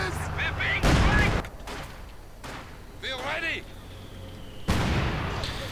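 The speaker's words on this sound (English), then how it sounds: "mortar rounds quick to hone in on the conscripts" Mortar rounds and gunfire in a Company of Heroes 1v1 match, with several loud booming impacts and bursts spread across the clip, mixed under a commentator's voice.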